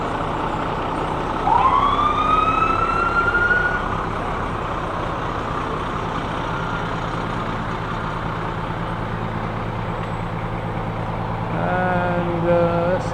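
A fire engine in a Fourth of July parade gives a short rising siren whoop, then its engine rumbles along among the crowd noise, with a second brief siren chirp near the end.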